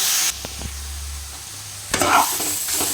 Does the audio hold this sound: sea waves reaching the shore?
no